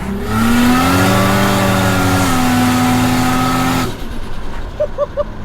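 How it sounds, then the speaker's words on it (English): An 800hp Ford Barra turbo six in an FPV F6 ute pulling hard in second gear at full boost, a loud sustained engine roar that climbs steadily in pitch, then cuts off sharply as the throttle closes near the end. "Let's turn up the boost a little bit and see how we go. Second gear, full power now."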